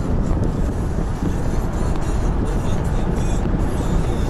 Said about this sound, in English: Nice air-conditioned car.